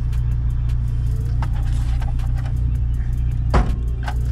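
A Ford Zetec 1.8 car engine running on its last fuel idles with a loud, steady, rough low drone. Faint clicks and one brief knock are heard over it, with no talk.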